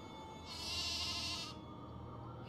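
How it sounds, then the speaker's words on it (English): A single sheep bleat from the game Nancy Drew: The Haunting of Castle Malloy rings out clearly for about a second over a low steady background hum, close and alone. "Oh yeah, it's just a sheep."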